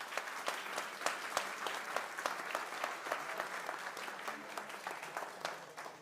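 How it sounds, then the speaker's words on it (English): A conference audience gives a round of applause for a panel on raw materials and security, a moderately quiet, steady patter of many hands with some sharper individual claps standing out. "can we have a round of applause for our panel?"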